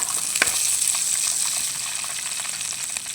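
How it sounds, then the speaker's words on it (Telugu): Green chillies fry in hot oil in a pan, a steady close hissing sizzle with light crackling pops throughout and no talking. "అదే ప్యాన్లో కొంచెం ఆయిల్ వేస్తున్నాను. పచ్చిమిర్చి సిమ్లోనే ఉంచండి."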